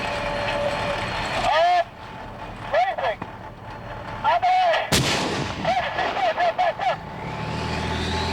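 Tank main gun firing practice rounds on a live fire range, one sharp heavy blast midway amid engine rumble and crew radio chatter, with shorter bangs and clatter around it.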